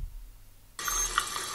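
A tap is turned on in the Daniel Tiger's Neighborhood video game, and water suddenly gushes in a steady, bright hiss after a moment of quiet.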